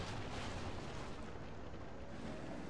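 A tank shell strikes an enemy tank in World of Tanks Blitz, a dense, sustained roaring rumble of impact and fire that fills the whole stretch at steady loudness, with no voices.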